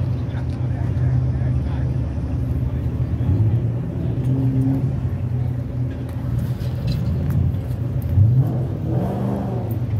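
Cars pulling out and driving away as a car show of classic muscle cars winds down, a continuous engine rumble and whir with occasional revving, steady and fairly close, with voices talking over it.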